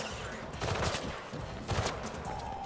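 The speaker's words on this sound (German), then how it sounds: "Wird scharf geschossen." Bursts of gunfire in Mirror's Edge Catalyst, two short volleys fairly faint in the mix under game ambience.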